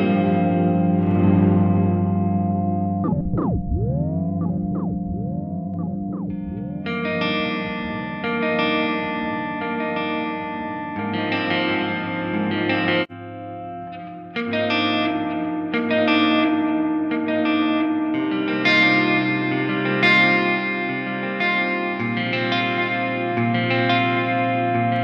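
An electric guitar runs through a Seymour Duncan Dark Sun digital delay and reverb pedal, playing sustained chords and a descending bend that smear into long echoing trails and washy reverb, loud and without any talking.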